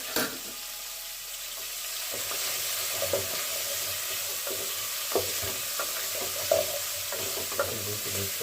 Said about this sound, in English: I'm going to be frying my chicken.